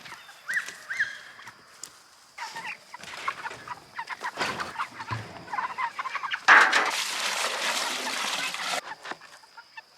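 Cornish Cross meat chickens cluck and squawk in short, scattered bursts, fairly close and moderately loud against background farm noise, with no talking.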